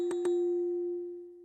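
A music box programming wheel turned through one crank step of four pins gives two quick plucked metallic plinks over a steady ringing tone that slowly fades, close and clear.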